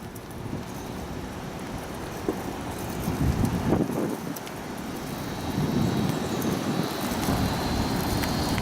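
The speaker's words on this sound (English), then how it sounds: "Real strong wind coming right at me." Strong hurricane wind from Hurricane Harvey in Houston roars steadily with no one speaking, a broad rushing noise that swells louder partway through and stays heavy to the end.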